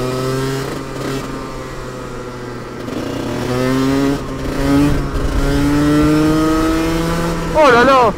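A two-stroke racing kart on a drying track, its engine whining and climbing in pitch as it accelerates, fairly close, with a sharp rising rev near the end. A person speaks briefly over the engine.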